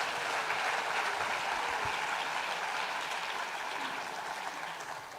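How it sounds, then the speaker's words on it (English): Audience applause at the official opening of Global Expo Botswana 2023 for the EBBF Diamond Ensemble, a steady wash of clapping from a room crowd that holds level and slowly fades slightly. "I think they'll appreciate another round of applause from you"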